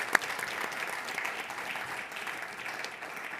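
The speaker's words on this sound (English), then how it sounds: "I think they also deserve a round of applause." Audience applause after a conference panel on international peace and security, a sustained patter of many hands clapping at moderate loudness that continues steadily without any voices.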